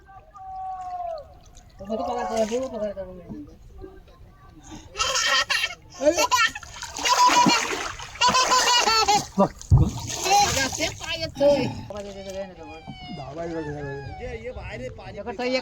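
A Ganesh idol is immersed in water at a Konkan village visarjan after a 21-day festival, with bursts of splashing and churning water amid laughter and excited voices nearby.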